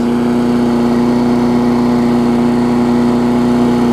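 A small engine on a Craftsman big wheel runs at a steady fast idle, a loud constant buzzing drone with no change in pitch and no talk over it.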